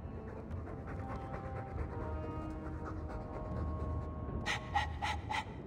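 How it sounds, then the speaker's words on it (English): Heavy, close panting from a dog in the video game Dragon Age 2 runs steadily throughout, ending in a few sharper, louder huffing breaths near the end. "All that noisy dog breath, day in, day out."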